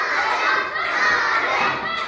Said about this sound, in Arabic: يلا يلا شجعوا